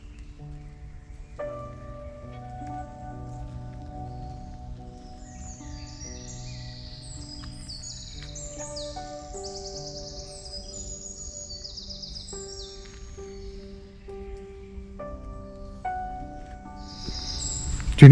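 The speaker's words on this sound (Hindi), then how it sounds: "आप ये परिंदों को सुने।" Several birds sing and chirp in a German forest, with varied, fairly close calls and higher twittering scattered over a quiet background, with no talking.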